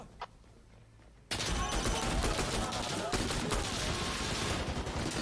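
Rapid automatic gunfire erupts in an online shooter game after a quiet moment, dense sustained bursts of shots that run loud to the end.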